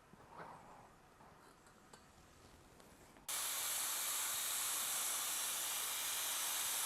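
Gel coat is sprayed from a dump gun onto a DIY car body kit, starting after a few seconds of quiet room noise as a sudden steady hiss that continues loud and close to the end.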